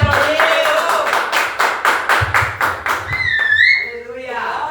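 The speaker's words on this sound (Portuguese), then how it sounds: "Você pode aplaudir." A crowd at a worship service claps in a steady rhythm of sharp beats for several seconds, then the clapping gives way to a voice.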